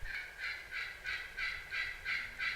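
Wild turkey gobblers call from across a field, a series of about seven evenly spaced, fairly faint bursts.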